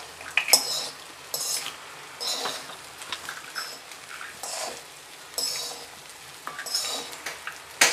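Raw mango rice being mixed with two spoons: close, clinking metal scrapes and taps against a dish, coming in irregular bursts with short quiet gaps, no talking.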